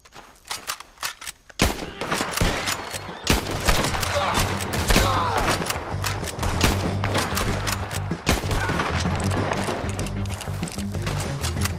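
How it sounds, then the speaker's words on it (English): Rapid gunfire in Red Dead Redemption 2 during a shootout with men on the ground, a few scattered shots followed by dense, continuous volleys of overlapping gunshots with brief pauses. "Let's just start shooting"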